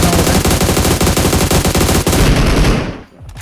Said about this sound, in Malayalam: സ്നൈപ്പർ അടിക്കുന്നുണ്ട്.